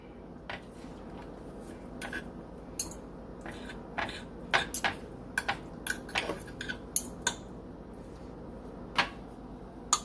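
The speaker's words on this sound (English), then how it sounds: "I'm going to take it out and shred it." Slow cooker honey mustard chicken being shredded with utensils, light clinks and scrapes of metal against the pot in an irregular scattered rhythm, close and fairly quiet.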